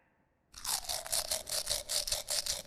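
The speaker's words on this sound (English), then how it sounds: "Let me get my toothbrush and get that out." A toothbrush scrubbing a dinosaur's teeth to clear out a stuck leaf starts abruptly after a quiet moment, then rasps in quick rhythmic back-and-forth strokes, close and fairly loud.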